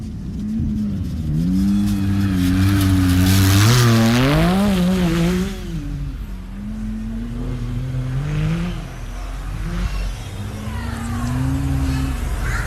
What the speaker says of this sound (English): There's Mel Brandel in car 77, also underway now